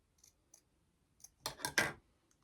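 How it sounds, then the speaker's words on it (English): Small craft cutter punching a shape from paper, a few faint clicks followed by three quick crisp crunching snaps, close and quiet with no voices. "I don't even know what this is called, this little cutter thing. So let's try it and let's see."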